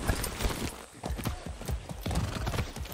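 Horse hooves clip-clop in a steady galloping rhythm in Far Cry 6, close and fairly loud, with a brief whinny among the beats and no voices.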